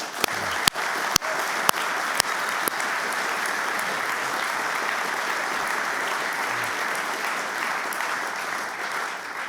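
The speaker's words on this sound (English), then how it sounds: "So a big applause in this phase already for you." An audience at a finance symposium applauds steadily for several seconds, a dense patter of many hands, with a few sharp louder claps near the start.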